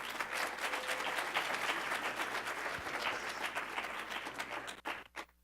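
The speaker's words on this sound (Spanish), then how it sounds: "Un aplauso, por favor." Audience applause at a social entrepreneurship festival, a dense, steady wash of many hands clapping at close range that carries on for about five seconds before thinning out at the end.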